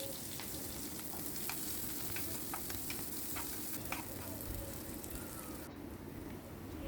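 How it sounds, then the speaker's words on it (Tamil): Mustard seeds tempering in coconut oil in a pan, a steady, dense sizzle with scattered sharp pops as the seeds crackle, close and continuous throughout. "இன்னொரு பேனில் தேங்காய் எண்ணெய் விட்டு கடுகு போட்டு தாளிச்சுக்கோங்க"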